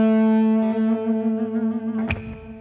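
Electric guitar through a delay effect, one sustained note ringing with a smooth tail, then a brief brighter pluck near the end, alone with no voices.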